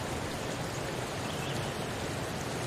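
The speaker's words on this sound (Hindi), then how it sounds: "भयंकर वर्षा" Heavy rain pours in a dense, unbroken hiss that stays loud and even throughout, with no voices over it.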